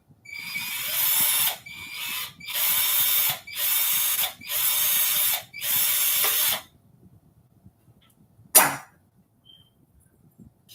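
A power drill bores through an aircraft structures test plate in five steady whining bursts separated by short pauses, followed by a single sharp clack, close and with no talking.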